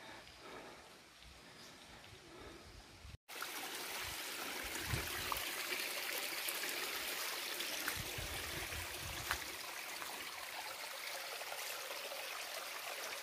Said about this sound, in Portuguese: Que é a gruta que vem a água lá da serra.